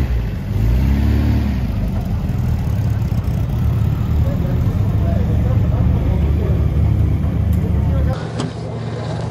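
An MG MGB engine with twin SU carburettors, fitted with straight-cut gears, revs loudly and steadily nearby as people talk inside the car, then drops away near the end.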